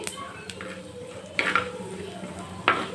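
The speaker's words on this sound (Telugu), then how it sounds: "కొద్దిగా ఆయిల్ వేసి అయితే జీడిపప్పును వేయించుకోవాలి చూడండి ఇందులోనే కొద్దిగా ధనియా అలానే శనగపప్పు కొద్దిగా వేసేసి ఇలా వేయించుకోవాలి" Cashews, coriander seeds and chana dal fried in a little oil in a pan, with a faint steady sizzle and a few sharp scrapes and clinks of a spoon against the pan, close by.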